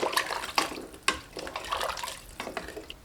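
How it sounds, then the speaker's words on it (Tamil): Water heating toward a boil in a pot for parboiled-rice vegetable biryani, a steady watery bubbling hiss with occasional louder bursts and clinks, close and moderately loud, with no talk. "தண்ணி கொதி வர ஆரம்பிக்குதுங்க"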